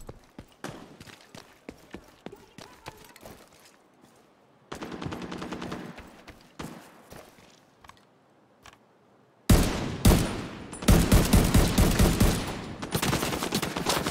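A gun firing in The Division 2: faint, scattered shots and short bursts at first, then loud, sustained automatic bursts close by in the second half.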